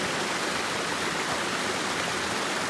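River water rushing over rocks and moss, a continuous dense broadband roar, loud and close, steady from start to end with nothing else heard.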